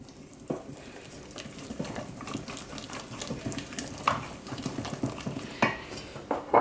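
Cookie dough mixed with dulce de leche is stirred by hand, giving soft, irregular wet scrapes and sticky smacks that grow a little louder and more frequent toward the end. Close and alone, with no speech.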